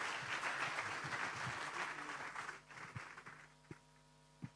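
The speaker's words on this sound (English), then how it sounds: "Again, a loud applause to all of them." Audience applause at a youth engagement gathering, a full wash of clapping that stays strong for a couple of seconds, then thins out to scattered claps over a low electrical hum.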